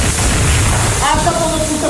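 A grenade explosion, a loud, close, low booming rumble that fills the first second and then fades as a voice rises over the tail end.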